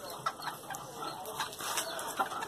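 Chickens cluck softly in a coop at a poultry breeding pen, scattered short calls over a steady background of insects and ambient noise.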